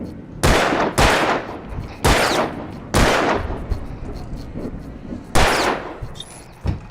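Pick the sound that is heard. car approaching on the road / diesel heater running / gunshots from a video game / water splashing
gunshots from a video game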